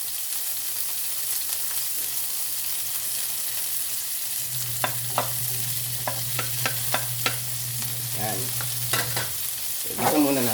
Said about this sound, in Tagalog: Sasabay na rin natin yung ating sibuyas, kamatis, saka yung ating luya.